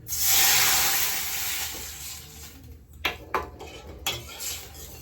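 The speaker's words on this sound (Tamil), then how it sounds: "இதுக்குள்ளே வந்து தண்ணி ஊற்றிடுறேன்" Water hits a hot pan after roasting, with a loud hissing sizzle that slowly settles, followed by a few light clinks of metal utensils.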